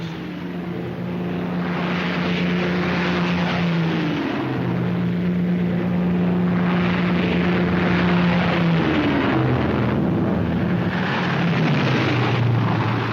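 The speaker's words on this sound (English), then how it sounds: "the transports take off shortly before complete darkness" Military transport aircraft taking off at dusk before the D-Day invasion, with steady, loud propeller engine drone and shifting tonal hum that continues throughout.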